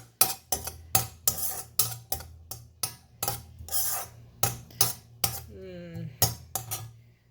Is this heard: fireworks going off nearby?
no